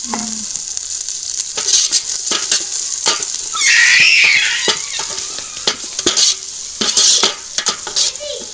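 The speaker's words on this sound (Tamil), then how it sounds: "வெங்காயம் நல்லா பொரியுது இப்போ கருவேப்பிலை பச்சை மிளகாயம் போடுறோம்" Onions fry in a pan with curry leaves and green chilies for Jaffna village-style kothu roti, a constant sizzle broken by repeated scraping stirs and clinks of the spoon against the pan, with a louder hissing burst midway.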